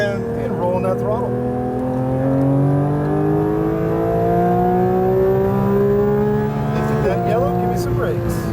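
Porsche 992 GT3 engine accelerating on a racetrack, a loud continuous rising drone heard from the cabin as the throttle is rolled on, with a voice talking over it.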